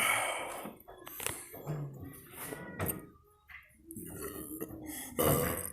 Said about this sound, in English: I'm gonna be burping.